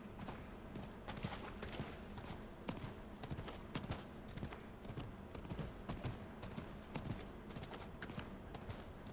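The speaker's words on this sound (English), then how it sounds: "Gonna go there now, riding the horse." Rhythmic clip-clop of horse hooves as a horse is ridden in the video game Diablo IV, steady repeating hoofbeats at moderate pace, fairly quiet.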